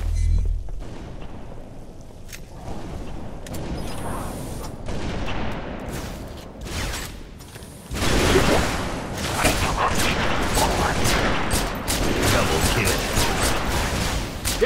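Sustained gunfire from a Halo 3 ODST firefight with sniper fire, bursts of shots and booms packed densely across the whole stretch, growing heavier and louder in the second half.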